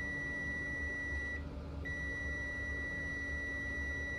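Steady continuous beep from a multimeter's continuity test on an LG 18650 lithium-ion cell, a single high tone that holds, drops out briefly for about half a second, then resumes, close and clear over faint background hiss.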